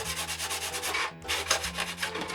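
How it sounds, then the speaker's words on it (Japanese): A woodworking rasp of the hardware-store kind is scraped hard against a part of a WPL JA11 Jimny model body being reshaped, making a fast, steady run of coarse, gritty strokes close up, with a brief pause midway. "ホームセンターに売ってる木工用みたいなヤスリなんですけども、これでガシガシガシっと、 こう、整えちゃいました"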